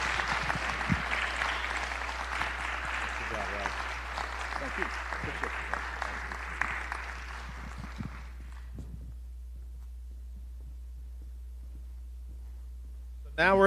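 Audience at a South Carolina gubernatorial candidate forum applauding Congressman Norman, a crowd of mid-level claps for about eight seconds, then dying away to near silence under a low steady hum, with faint voices among the clapping.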